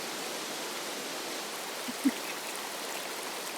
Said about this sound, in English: Could be a natural spring of some kind.